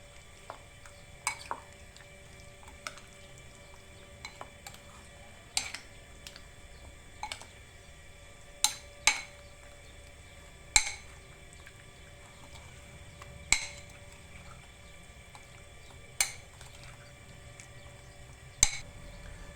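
Chicken pieces being mixed by hand with red chili, salt and turmeric in a bowl for chicken patakha: sharp, irregular clicks and taps every second or two over a soft, steady low rustle, close and fairly quiet, with no talking.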